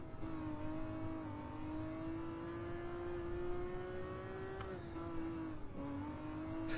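A Ferrari engine in Gran Turismo 7 holds a steady high drone that climbs slowly, then dips and rises again with two quick shifts, loud and continuous with no talk.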